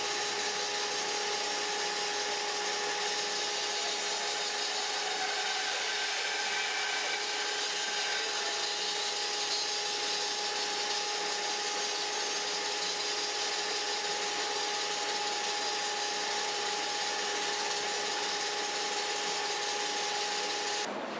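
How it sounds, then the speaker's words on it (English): A bandsaw cuts wood into pucks. Its steady, droning whine and hiss hold constant and fairly loud for the whole span, with no talking. "We're going to go to the bandsaw. We're going to slice these into pucks a little over our board thickness"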